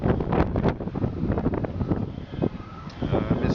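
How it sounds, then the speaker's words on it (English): Strong gusting wind outdoors in the aftermath of Hurricane Irma, buffeting the microphone in a steady broadband roar with surges, while a person speaks over it throughout. "As you can see, it's still really windy."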